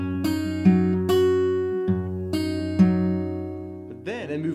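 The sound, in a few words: guitar playing section 1 of a song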